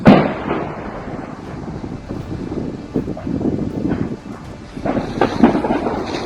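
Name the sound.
artillery shells exploding in a city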